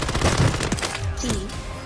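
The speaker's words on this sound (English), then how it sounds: "Oh, he's sniping." Gunfire in a Warzone match, with several sharp, loud shots close together over a busy game soundscape and no voices.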